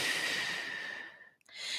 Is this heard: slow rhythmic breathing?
yes